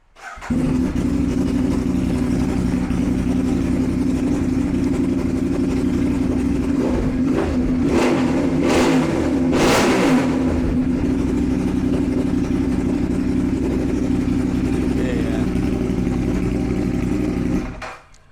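A Ducati Monster 821 motorcycle with a faulty electronic throttle fires up and runs steadily near the listener, with a few sharp revs in the middle before settling back to a rough idle and cutting off.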